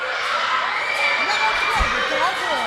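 A crowd at a 2025 tournament match roars and cheers wildly after a goal, a dense, sustained wash of shouting and whooping voices with children's high cries mixed in, loud and continuous throughout.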